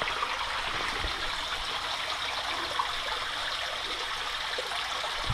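Deep water flows steadily through an old coal mine tunnel beneath a Burnley colliery, a constant broad rushing and trickling like a stream, close and unbroken for several seconds with no talk.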